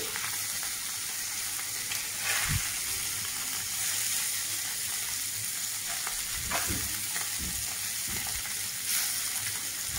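Fish frying in oil, a steady close sizzle with several scraping, stirring sounds at intervals, no voices.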